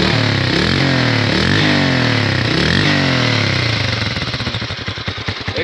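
A 150–200 cc motorcycle's exhaust roars loud and close as the engine revs in rising sweeps, then settles into a choppy, rapidly pulsing idle.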